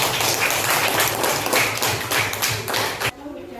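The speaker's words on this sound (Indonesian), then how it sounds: "Beri tepuk tangan untuk kelompok 3" A classroom of students claps for a presenting group, a short burst of lively, uneven clapping lasting about three seconds before stopping abruptly, followed by quiet room tone.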